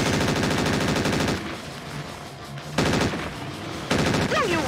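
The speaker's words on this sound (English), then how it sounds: "Machine guns, go brrr!" Rapid, continuous machine gun bursts in the Mechwarrior 4 Mercenaries video game, loud and dense, with a brief lull before the fire resumes in two more sustained stretches.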